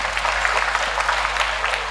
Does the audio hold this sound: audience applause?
yes